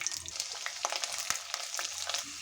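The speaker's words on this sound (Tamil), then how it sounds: "எண்ணெய் ஊற்றிட்டு கடுகு, ஜீரகம் இதெல்லாம் போட்டு பொரிஞ்சு வந்த உடனே பூண்டு" Mustard seeds, cumin and garlic frying in hot oil, a steady close sizzle with scattered crackles and pops and a few stirring clinks, no voices.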